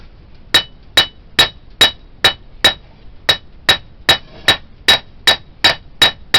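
A hand hammer forges the thin steel tang of an English trade knife, striking in a steady, evenly spaced series of about sixteen close, bright ringing blows with no talking.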